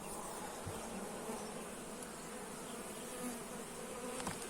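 Honey bees at an apiary, kept on syrup feeding in autumn, buzz as a quiet, steady hum that runs throughout with no talk.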